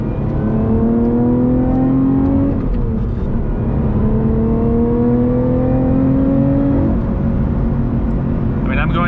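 A 2021 Lotus Evora GT engine holds a steady, rising drone through a moderately tight corner, pitch climbing and easing in long sweeps as the car carries speed, with someone talking over it throughout.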